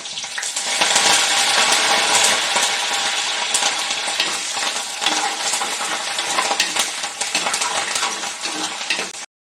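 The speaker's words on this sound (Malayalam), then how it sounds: "വലിയ വറ്റൽ മുളക് ഞാൻ മുഴുവനെ തന്നെ ഇടുകയാണ് കേട്ടോ" Whole dried red chillies, chopped shallots and fenugreek fry vigorously in hot oil, a loud, dense, continuous sizzle and crackle with occasional stirring clinks, heard up close and uninterrupted.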